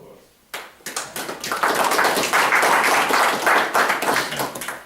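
Audience at an industrial development authority meeting breaking into applause: clapping starts abruptly after half a second and continues as a lively, fairly close round of many hands.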